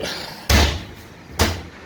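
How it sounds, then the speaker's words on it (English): Two solid thuds of a kitchen oven door being shut, a heavy clunk followed about a second later by a second slightly softer bang, close and alone. "Door closed."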